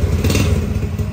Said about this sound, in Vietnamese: test máy trước luôn cho anh em luôn